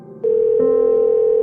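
A steady electronic telephone call tone begins after a brief quiet moment and holds at a constant pitch, loud and alone with no talking.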